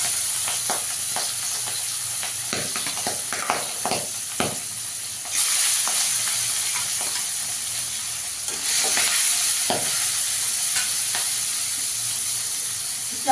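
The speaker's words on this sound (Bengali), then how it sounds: "ভীষণ ফাটে বোয়াল মাছ।" Boal fish fry in hot oil, giving a continuous close sizzle punctuated by frequent sharp pops and spattering crackles, with louder hissing surges partway through; no voices are present.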